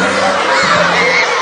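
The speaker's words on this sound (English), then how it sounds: "The show ended with the crowd going wild." An audience at the end of a Sesame Street Live show cheers in a dense, loud, sustained roar, with children's shouts mixed through it.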